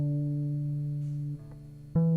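An electric guitar recorded an octave up to stand in for a bass line plays a long held note, then shifts to a lower, quieter one before a brighter new note rings out near the end.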